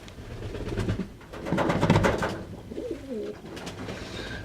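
Pigeons in an aviary with young birds coo softly and repeatedly at close range, with low throaty rolling calls and faint rustling between them. No voices are heard.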